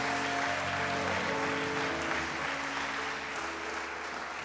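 Church congregation applauding during a sermon, a steady, fairly loud wash of clapping with a low hum of sustained tones beneath it.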